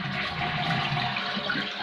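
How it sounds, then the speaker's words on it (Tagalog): A toilet bowl with a newly assembled tank fitting and float flushes in a continuous rushing pour of water that holds steady for nearly two seconds, up close and alone. "Try natin hirahin para mag-flush siya."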